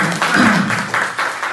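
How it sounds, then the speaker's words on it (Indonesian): Short burst of audience clapping at a school teachers' event, loud and near, with uneven pulses of claps and a low voice murmur beneath. "Baik, tepuk tangan."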